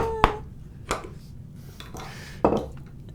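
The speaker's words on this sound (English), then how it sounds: "I'll be chopping in straight down" Three sharp chisel strikes chop into wood while a molding plane is being made, each a crisp close knock spaced about a second apart, with quieter scraping and a light tap between them and no talk.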